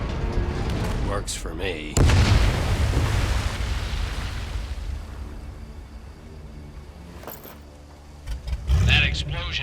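A heavy explosion booms loudly in the Medal of Honor VR game, a sudden blast that rumbles and slowly fades, followed later by a second burst, with brief talk early in the clip.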